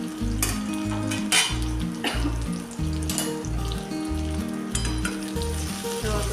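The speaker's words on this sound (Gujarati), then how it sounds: "ઘડીક આપણે ડુંગળીને તેલમાં જ ચડવા દઈશું" Whole onions sizzle steadily in hot oil in a covered pan over a low gas flame, a continuous close crackle with a few light metallic clinks and a low background hum.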